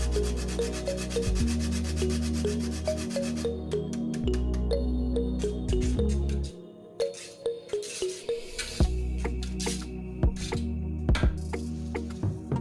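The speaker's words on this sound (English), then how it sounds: "I'll also be grating 1 small nutmeg seed." Small nutmeg seed being grated, close dry rasping strokes in an uneven rhythm, heard alongside a steady tonal background that drops out partway, leaving the scraping more exposed and spaced out.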